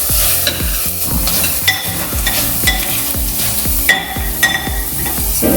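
Garlic and shallot sizzle in caramel for Vietnamese caramelized pork belly while a utensil stirs and scrapes the pan in a steady, repeated rhythm, close and loud with no talk.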